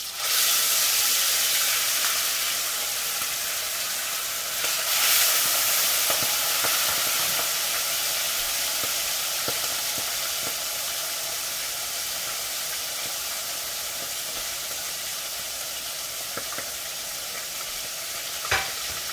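Bitter melon (ampalaya) sautéing in a pan for ginisang ampalaya, a steady loud sizzle and hiss with occasional stirring scrapes, continuous and close, no voices.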